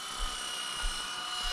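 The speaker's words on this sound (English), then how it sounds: "But it is a fun helicopter." A Blade 120 S2 fixed-pitch RC helicopter flies nearby with a steady high-pitched rotor and motor whine, holding a constant tone with slight periodic swells.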